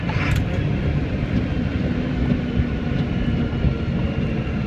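Truck with a split rear axle downshifting for a turn, a loud, steady, close engine drone with a low rumble and no talk.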